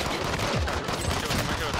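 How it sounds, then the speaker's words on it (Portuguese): Dense, rapid gunfire in a shooter video game, a loud, continuous burst of overlapping shots filling the moment, with a voice faintly mixed underneath. "O cara tá me atirando."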